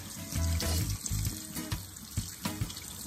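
Kitchen sink faucet runs water over hog maws being rinsed, a steady splashing stream broken by irregular pulses and knocks as the pieces are handled, close and fairly quiet with no talking.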